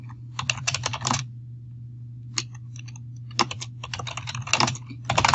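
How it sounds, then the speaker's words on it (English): Rapid bursts of computer keyboard typing, crisp close keystrokes separated by brief silences over a low steady hum, no voices. "You can type directly in here."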